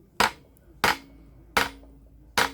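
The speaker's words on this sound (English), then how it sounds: "I'm just going to tap it gently with a hammer" A hammer gently tapping a screwdriver seated in a slot to jar threads loose in alloy on a GMC two-stroke engine: four sharp, close metallic taps spaced evenly apart.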